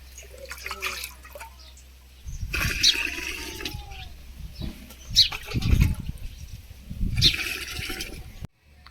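Water poured into a pot of rice cattle feed, arriving in three separate splashing, gurgling bursts with quieter pauses between, close by, with faint chirps in the background and no talking.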